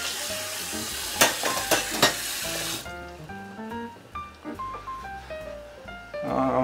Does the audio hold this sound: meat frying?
yes